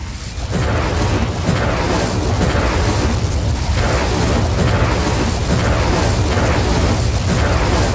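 Incendio fire spell cast repeatedly in Hogwarts Legacy, a loud continuous roaring, crackling blast of flame with rhythmic surges, alone without talk.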